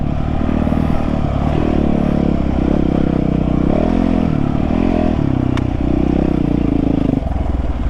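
A dirt bike motorcycle engine riding on forest trails, loud and close throughout with a steady drone that rises and falls as the throttle changes, plus clattering from the rough ground.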